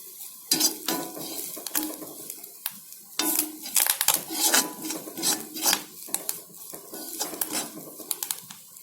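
Onions and vegetables for white pumpkin sambar are stirred and sautéed in a pan, with a spoon scraping and clanking against the metal in irregular bursts, close up, over a faint sizzle.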